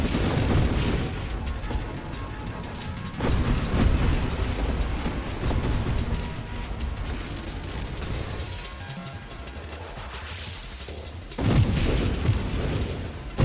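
Big screen-wide Nova blasts in a space shooter game rumble in heavy, dense waves. The booming surges rise and fade over a sustained, loud roar with no talk.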